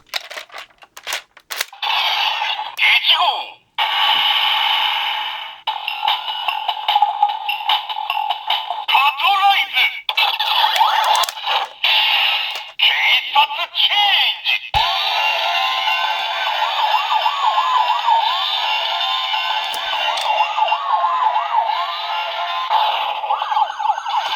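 DX VS Changer toy from Lupinranger vs Patranger, emitting electronic siren-like transformation effects with rising and falling tones, clicks and a recorded announcer voice, loud and continuous throughout.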